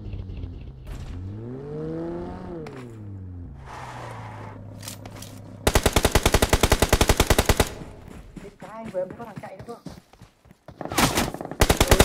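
Machine gun fire in the video game PHARAOH 2.0, a loud rapid burst of evenly spaced shots lasting about two seconds, then scraping mechanical game effects and short further bursts.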